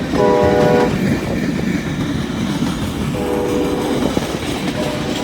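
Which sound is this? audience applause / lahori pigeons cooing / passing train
passing train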